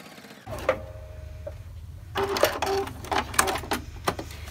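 A sewing machine stitches a quilt-as-you-go Halloween log cabin table topper, with a short burst of mechanical whirring followed by a longer, louder run of stitching broken by brief pauses, close by and alone.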